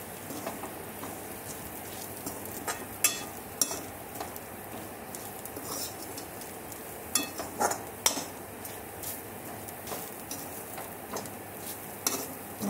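Grated coconut roasting in a pan for sev bhaji, a steady close sizzle and scrape of stirring, with occasional sharper clinks of the spoon against the pan.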